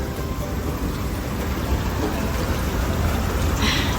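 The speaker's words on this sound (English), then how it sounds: "Rain, and more rain." Steady rain patters down in a dense, even hiss, with a faint low rumble underneath and no speech.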